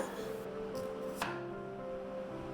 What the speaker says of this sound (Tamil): அந்த 2 பெரிய வெங்காயம் வந்து நம்ம லாங் சைஸில் தின் ஸ்லைஸாக நம்ம கட் பண்ணிக்கலாம்